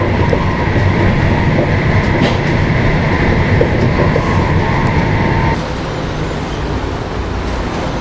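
A train runs on rails through the English countryside, heard from onboard as a loud, steady rumble and rolling rail noise with a high whine, the tone shifting and easing slightly near the end.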